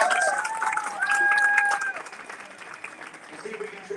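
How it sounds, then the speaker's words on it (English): A crowd at a charity fundraising walk applauds in a continuous patter of clapping, with a voice over a public address system talking across it. "Ladies and gentlemen, a round of applause."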